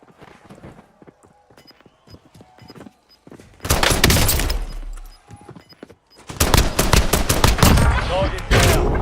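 Bursts of rapid automatic gunfire in the Warzone video game, two dense loud volleys separated by quieter game sounds and a few single shots.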